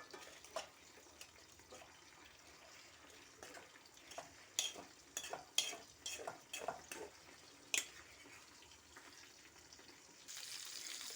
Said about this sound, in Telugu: ఆయిల్లో మగ్గితే వంకాయ బాగుంటుంది.